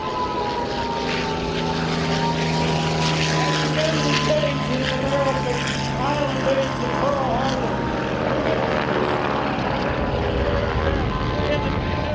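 Japanese WWII warplanes, a Mitsubishi, a Nakajima B5N Kate and an Aichi D3A dive bomber, drone past at an air show, a steady propeller engine roar with shifting pitch that persists throughout under an announcer's voice.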